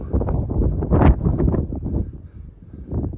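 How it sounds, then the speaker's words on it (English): Strong gusts of wind buffet the microphone in a continuous rumbling roar, rising and falling with no voices. "A little windy up here"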